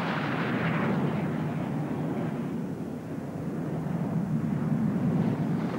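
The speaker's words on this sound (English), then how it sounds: "The Fighting Falcon demonstrating its extreme maneuverability now with its electrically signaled flying controls" An F-16 Fighting Falcon fighter jet roars through a maneuverability display at a 1984 air show, a broad continuous rushing engine roar that dips briefly in the middle and swells again, fairly loud and steady.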